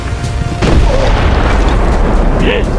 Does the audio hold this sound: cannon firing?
yes